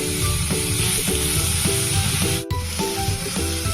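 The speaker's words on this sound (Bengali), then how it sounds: "এই দেখুন গ্রেট করা বিটটা দেওয়ার পরে আমি নাড়াতে 2 মিনিট হয়ে গেছে" Grated beetroot sizzles steadily in a hot pan with spices while a spoon scrapes and stirs it in a regular rhythm, close and continuous with no talking.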